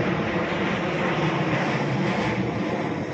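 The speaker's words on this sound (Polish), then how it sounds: "Samolot leci." An airplane passes overhead near a lakeside walk, a steady broad roar that holds even and continuous throughout, with no talking.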